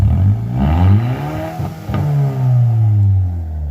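A 2017 Hyundai Elantra Sport with its muffler deleted revs hard twice, loud and close, its raw exhaust note rising and bouncing off the rev limiter before falling back.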